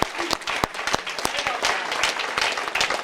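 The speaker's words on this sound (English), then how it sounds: "A round of applause." Dinner crowd at a high school sports hall of fame event clapping in steady, moderately loud applause throughout, with sharp individual claps standing out.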